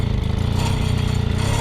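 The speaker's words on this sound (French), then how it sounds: "Elle a pétaradé." An old Mobyx moped, unused for over 40 years, sputters loudly up close in a rapid, uneven string of popping engine pulses.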